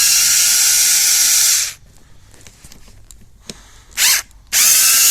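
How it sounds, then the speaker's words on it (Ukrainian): A cordless screwdriver whirs loudly as it unscrews the cover of a battery-powered pruning shear, one long high whine, a quiet pause with small clicks, then two shorter bursts close by. "От і викрутка, бачите, не треба пальцями крутити"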